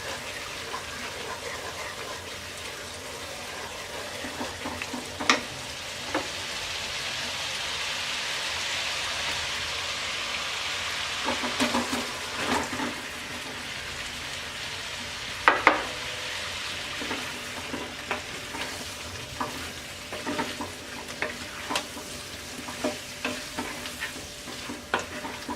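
Pieces of green mango fry in a pan for a pickle, giving a steady rain-like sizzle broken by occasional scraping clinks as a utensil stirs them, with no talking.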